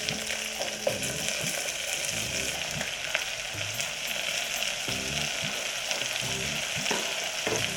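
Carrots, green chillies and beans frying in two spoons of oil, giving a loud steady hiss with occasional stirring scrapes underneath, close up and with no speech.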